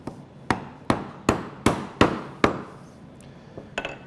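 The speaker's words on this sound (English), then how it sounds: "So what I'm doing is just going as deep as I can, cutting down, and the action of the chisel" A wood chisel is struck by a mallet to cut into a wood joint for a stool. About six sharp, evenly spaced knocks ring out close and loud, followed by a few softer taps, with no talking.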